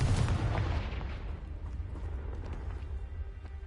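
Confringo fire-blast spells going off in the Hogwarts Legacy video game: a heavy booming burst at the start, followed by a rumbling, crackling decay that fades slowly, with no voices.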